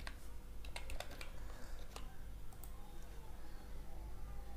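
A password being entered on a computer keyboard gives a cluster of soft, quick key taps early on, then sparse clicks, fairly faint over a steady background hiss.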